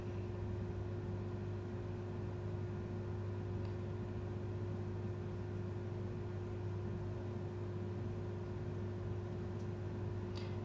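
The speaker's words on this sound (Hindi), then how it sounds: "ऐसे ही सारे पकौड़े मैं फ्राई कर लूँगी।" Dal pakoras deep-frying in hot oil give a steady, even sizzling hiss with a low constant hum underneath. The sound stays unchanged throughout, and no one speaks.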